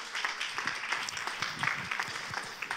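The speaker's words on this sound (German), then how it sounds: "Ein Applaus für unsere 5." Applause from an audience for five volunteers at a church sermon, a broad wash of many hands clapping steadily at moderate distance, with a few sharper individual claps standing out.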